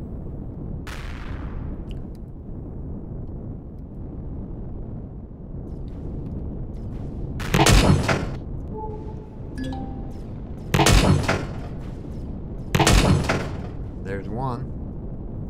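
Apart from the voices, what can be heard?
rocket turret firing in video game Empyrion Galactic Survival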